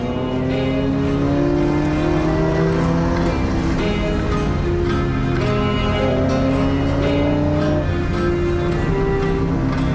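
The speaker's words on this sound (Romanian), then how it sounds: "De ce sună mașina asta așa bine?" A Ferrari 348 TB's V8 engine revs with a loud, continuous, rich mechanical drone, its pitch rising and falling gently over ten seconds, heard close with no voices.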